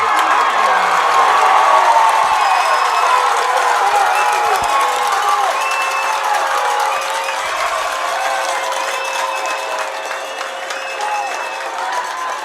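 A loud, packed high school football crowd at Kaukauna roars and cheers continuously, a dense wall of shouting and applause that swells early and then holds steady throughout.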